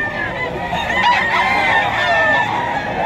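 A rooster at a crowded pre-dawn pet market in Bocaue, Bulacan gives a brief burst of crowing and clucking, close and fairly loud, over a busy murmuring background.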